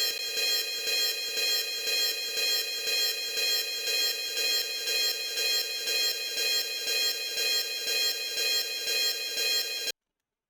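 Synthesized ride cymbal sample played as a MIDI example, a bright metallic wash repeating in a steady rhythm of about two hits per second for ten seconds, then cut off abruptly.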